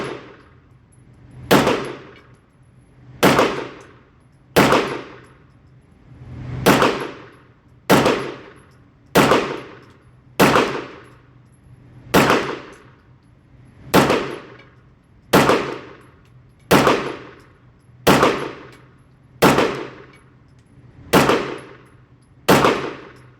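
A Bul Armory SAS2 Tac Govt 9mm pistol fires fourteen single shots at a slow, steady pace, each crack loud and sharp with a short ringing decay, and no one talks between them.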